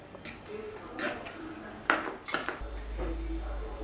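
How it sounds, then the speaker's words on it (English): Chicken pieces for a Greek-style casserole are flipped over in a pan, giving scattered light clinks and scrapes of utensil on metal, with one sharper knock midway, over a low steady background. "We are turning each and every piece over so it goes lovely and golden on all sides."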